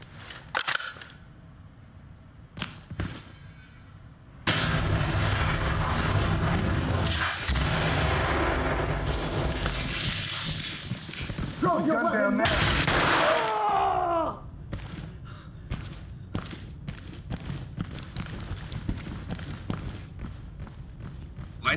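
Flashbang grenade thrown during a tactical room clear in the game Ready or Not, a sudden loud broadband blast followed by a sustained ringing wash and scattered clatter, with a voice briefly talking amid the noise.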